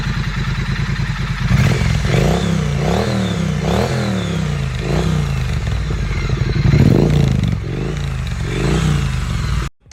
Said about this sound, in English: everybody seems to love it, especially its V-twin-like exhaust note